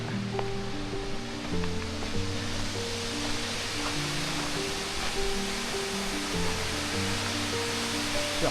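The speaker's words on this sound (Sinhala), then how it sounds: "අන්න තියෙනවා ඇබර්ඩීන් ඇල්ල." Aberdeen Falls in Sri Lanka, running low on water, gives a steady, distant broadband rush heard throughout, partly overlaid by sustained musical tones.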